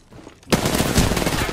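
Video game gunfire bursts in sharply after a short quiet lead-in, a loud, dense run of rapid shots that keeps going without a break, with no talk over it.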